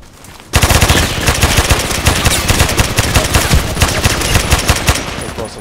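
Rapid bursts of AEK-971 assault rifle fire in the Contract Wars online shooter, loud and close, with dense repeated cracks running almost continuously after a brief quiet start.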